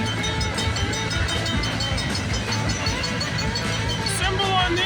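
CPKC freight train H88 from London, Ontario rolls past a crossing at Milburough Line, a loud, steady rumble of wheels and cars with rhythmic rail clatter, close and continuous.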